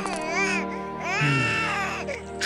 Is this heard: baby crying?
yes